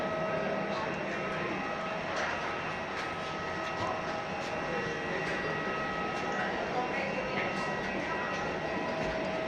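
Steady, broadband engine roar of an Air Austral airliner, heard from inside the cabin on a flight to the Seychelles, constant and unbroken with faint rattles throughout.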